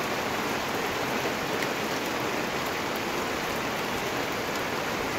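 Steady rain pours on a wet day in Bermuda, a dense, even hiss of drops hitting surfaces, close and continuous with no speech.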